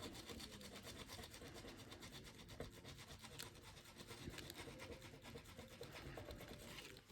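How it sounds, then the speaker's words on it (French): Scratching the coating off an 8-euro scratch card, a steady close rasping rub that runs unbroken for about seven seconds with no talking. "C'est une carte à gratter."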